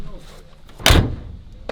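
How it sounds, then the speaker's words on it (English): The door of a classic pickup truck swings shut with a single solid, heavy thud, close by, set against someone talking. "Door shut good."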